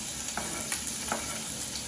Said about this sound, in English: once the olive oil is starting to smoke a little bit, that's when you know it's hot enough to put the onions in. And you should hear a nice sizzle.